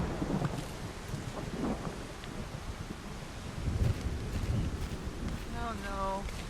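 Stormy weather in the Solar Punk video game: steady roaring wind and rain noise with a low thunder rumble swelling in the middle, then a brief tonal chirp near the end.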